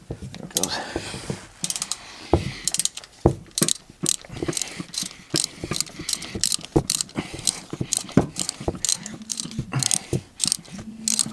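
A filter wrench loosens the oil filter housing on a 2015 Toyota RAV4 Limited, giving a close series of sharp ratcheting clicks and mechanical clunks in an irregular rhythm.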